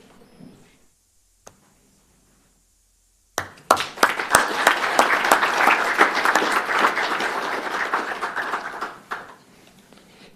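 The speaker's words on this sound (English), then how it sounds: "we can clap as each person." After a quiet pause, a school board meeting audience bursts into applause, many hands clapping steadily for several seconds before fading out.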